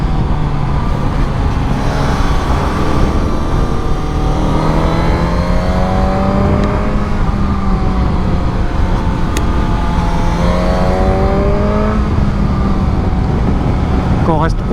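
A Suzuki GSX-S 1000 motorcycle accelerates hard on an open road, its engine note climbing through the revs and dropping at each gear change, loud and close under wind rush, with a rider's voice heard.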